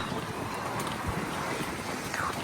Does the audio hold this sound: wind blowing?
yes